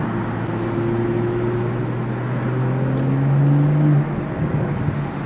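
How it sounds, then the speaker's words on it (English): A BMW M340i with a turbocharged engine and M Performance exhaust accelerating, heard from inside as a steady droning engine hum that swells and rises in pitch before easing off. "you can even hear the turbo a little bit."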